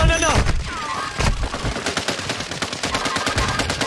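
Automatic gunfire from a Warzone 2.0 match, loud and close, with rapid crackling bursts repeating over roughly four seconds amid dense in-game battle noise.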